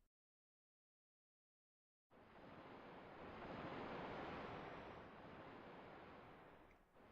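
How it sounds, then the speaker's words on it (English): Ocean surf in the video game Alundra rises after a moment of silence into a loud, steady wash of breaking waves that swells and slowly eases, with a windy hiss over it. "The ocean."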